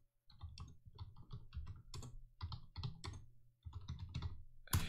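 A computer keyboard is typed on in quick irregular bursts of crisp key clicks, close and moderately loud, with a brief pause midway and a heavier final strike.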